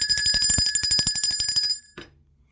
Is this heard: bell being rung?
yes